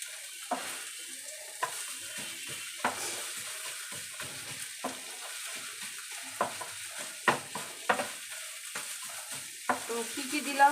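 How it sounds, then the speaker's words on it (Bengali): Fish pieces in ginger-garlic-chili paste with cumin, coriander and garam masala being stirred in a frying pan on a gas flame: a soft sizzle under repeated scraping and clinking strokes of a spoon, no voices. "মাছগুলোকেও এর সাথে মশলার সাথে ভালো করে মিশিয়ে নাড়াচাড়া করে দিতে হবে"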